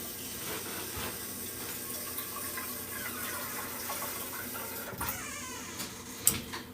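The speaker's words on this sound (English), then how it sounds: "I have a filter on my sink, so you don't gotta worry about all that. So I just do a little bit of water" A filtered kitchen sink tap runs, a continuous steady stream of water that sounds close and moderately quiet, with a few small clunks and splashes near the end.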